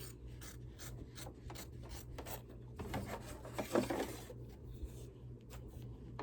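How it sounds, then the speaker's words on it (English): Quiet, rhythmic snipping and rubbing as fabric is trimmed close to the machine-embroidery stitching on a Dollar Tree potholder, with steady faint cuts and a slightly busier patch midway. "trim around that fabric as close as you can to the stitching"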